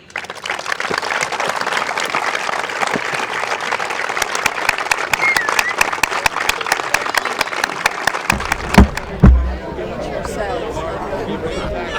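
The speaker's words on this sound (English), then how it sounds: "we're going to give Coach Ralston another round of applause" A crowd applauds steadily for several seconds, with scattered sharp claps and murmuring voices before the clapping fades into chatter.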